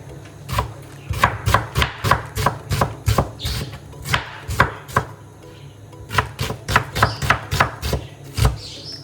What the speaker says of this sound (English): I'm just gonna chop the onion to a ring, half a ring